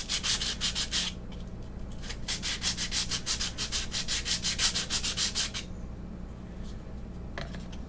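A faux malachite Easter egg rubbed against sandpaper makes steady, rhythmic, close scratchy strokes in quick succession for about five seconds, then a pause and one more faint stroke.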